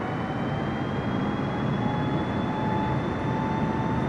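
Aircraft taxiing slowly in Microsoft Flight Simulator 2020, a steady loud engine drone with a constant whine and rumbling hum, unchanging for the whole stretch and without any talk.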